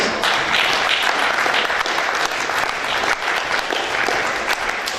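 Audience applause at a Woking FC end-of-season awards evening, a dense, steady wash of clapping from a large room that holds at full strength for the whole stretch.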